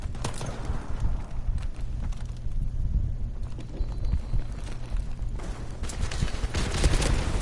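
Rapid, dense gunfire from dual-wielded weapons in Modern Warfare Remastered, a continuous rattling burst of shots with game noise that grows louder toward the end.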